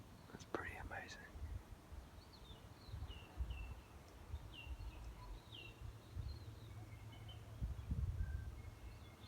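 Faint chirps and short whistles from several small native New Zealand birds come through a hushed, rustling bush, with soft low noise underneath.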